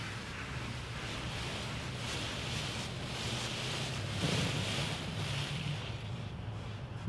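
An automatic car wash sprays water over a car in Texas, a dense continuous hiss and rush of jets heard from inside the vehicle, with a low rumble beneath and no talking.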